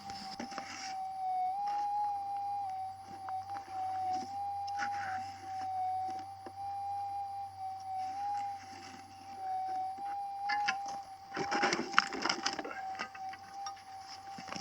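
A gold-hunting metal detector played through its loudspeaker gives a dull, steady signal tone that holds throughout and wavers slightly, with rustling and scraping of digging bursting in near the end.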